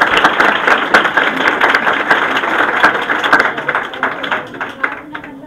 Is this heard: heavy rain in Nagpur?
no